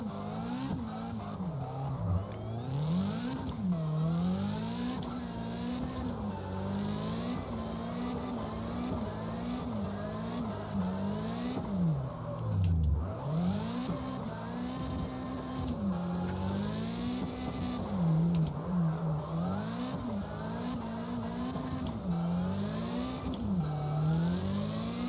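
A drift car lapping in the video game CarX Drift Racing 2, its engine revving up and down in repeated swells with tire squeal through the slides, loud and continuous with no talking.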